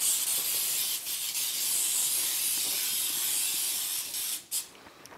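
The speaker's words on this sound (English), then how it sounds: "Here's my famous Baker's Joy. It's PEM, or oil spray with flour in it" A steady, continuous spray of Baker's Joy flour-and-oil baking spray hisses for several seconds close up, with a brief pause and a short final burst at the end.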